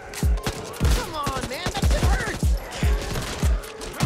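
Rapid repeated gunfire from Back 4 Blood, loud close bursts of shots in a steady rhythm, with voices talking over the shooting.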